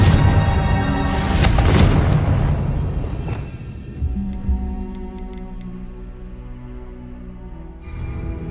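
A Confringo blasting spell detonates in Hogwarts Legacy, a loud, rumbling explosion that swells over the first two seconds and then decays. Faint ticking effects and ambient game sound follow.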